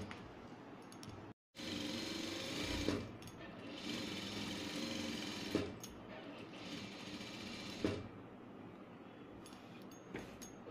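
A sewing machine runs in sustained bursts while stitching lining onto a churidhar, its steady whir broken by brief pauses and soft clicks, close and fairly loud, with no talking.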